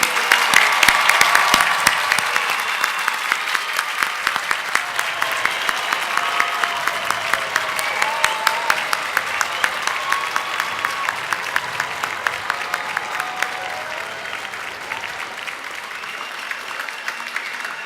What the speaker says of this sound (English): please, a round of applause for all of our graduates